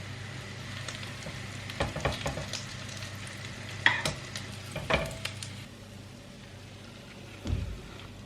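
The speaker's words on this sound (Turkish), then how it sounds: "Hiç krep tavasında da ekmek kızartımını gördünüz mü?" Quiet sizzling of bread frying in a crepe pan, with a few light scrapes and clinks of a utensil now and then.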